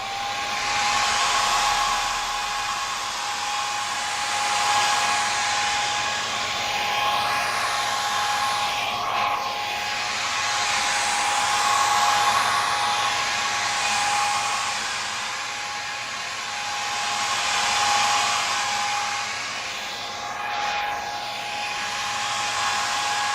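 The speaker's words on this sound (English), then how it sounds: "A lot of people really like air dryer noises." A hair dryer blows continuously at close range, its whirring roar swelling and fading slowly as it moves.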